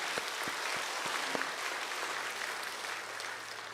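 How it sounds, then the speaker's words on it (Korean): A church congregation gives broad, diffuse applause during a worship service, a steady roomy wash of clapping with a few sharper nearby claps early on, at moderate level. "우리 영접하신 분들 위해서 한번 큰 박수로 격려해 주시면 감사하겠습니다."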